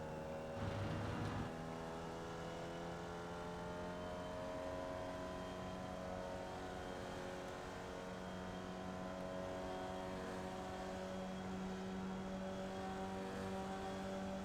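Race cars in the iRacing sim hold a steady, droning engine note with sustained harmonic tones that barely change across the lap, heard alone without talking.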